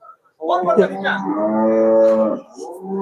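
A cow at the Melapalayam cattle market gives a single long, loud, close moo lasting about two seconds, followed by a fainter lowing sound and brief background voices.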